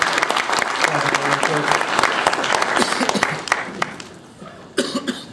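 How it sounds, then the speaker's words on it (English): Audience applause at a gala event, loud dense clapping through most of the stretch with a few coughs and scattered voices, thinning into isolated claps near the end. "Y'all clap for that real quick, y'all."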